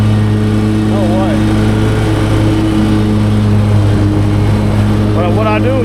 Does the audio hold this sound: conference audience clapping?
no